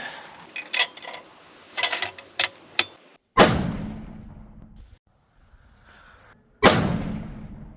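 A custom .338 Lapua rifle fires two loud, sharp shots a few seconds apart, each with a rolling outdoor echo, following several fainter clicks and knocks of handling.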